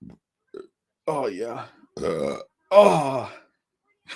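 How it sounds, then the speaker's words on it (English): A loud, drawn-out belch rolls out in several voiced bursts, close and croaky, mixed with short spoken exclamations from the same person. "You ever belch so hard it just like you could just feel it ripple through"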